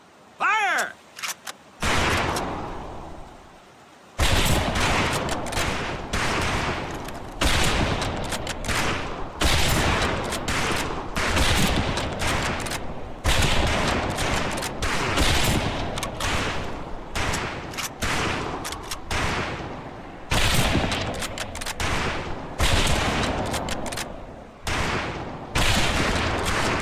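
Rifles fire a volley at targets on a training range in Medal of Honor: Pacific Assault, a dense run of overlapping loud gunshots that continues for over twenty seconds after a short opening pause.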